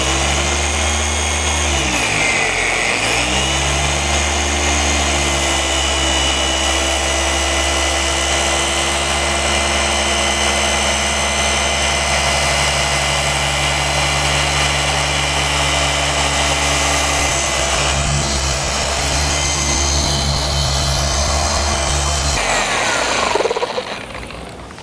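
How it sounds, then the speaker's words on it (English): A machine polisher runs at speed setting six on a black car, a loud steady motor whine and hum held almost unbroken, dipping briefly near the start and cutting off at the end, with no talking. "go ahead and bump it up to speed setting six and start polishing"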